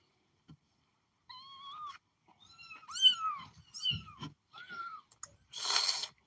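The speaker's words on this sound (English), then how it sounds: "Oh, baby cats. Everybody's playing baby cats." Baby kittens on a homestead mew in a string of thin, high rising and falling cries, several in quick succession, close and clear, ending with a breathy hiss.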